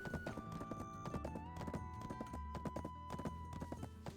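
A horse's hooves clip-clop in quick repeated beats as it gallops and jumps a fence in a video game, with sustained tones of game music underneath and no talk.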